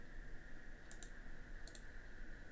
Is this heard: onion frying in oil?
no